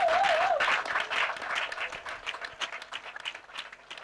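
Congregation applause with scattered acclamations during a French and Ewe sermon at a church service, a dense burst of clapping that starts loud and gradually thins, with a brief voice audible at the very start.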